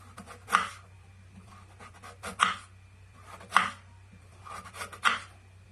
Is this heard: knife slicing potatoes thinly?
yes